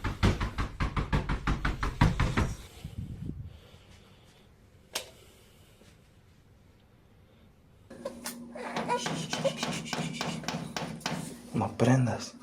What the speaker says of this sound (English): There are a ton of clips with doors being knocked on repeatedly.